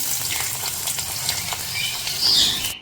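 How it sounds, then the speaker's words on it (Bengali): Potato pieces fry in hot oil in a pan, a loud continuous sizzle with a steady crackling hiss, close by and alone, fading out abruptly at the very end. "ঠিক এইভাবে লাল লাল করে আলুগুলো ভেজে নিলাম।"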